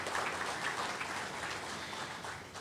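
An audience at a mayoral and city council candidates forum gives a round of applause, heard as a fairly distant, soft, even patter of many hands clapping throughout.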